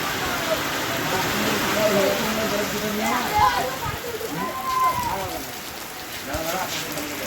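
Steady rain falls and patters on surfaces outdoors, a continuous wash of drops with voices talking faintly over it.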